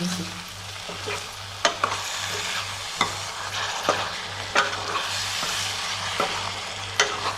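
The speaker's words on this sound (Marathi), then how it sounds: "पनीर आपलं चांगलं परतून झालं आहे आता सगळं मिसळून" Paneer bhaji cooking in a pan sizzles steadily while a spatula scrapes and knocks against the metal at irregular intervals, close and fairly quiet, with a low steady hum underneath.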